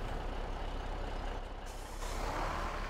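A Magnum tractor in Farming Simulator 17 rumbles steadily with a loud diesel drone and hiss, close by and continuous, with a brief shift in tone midway and no voices.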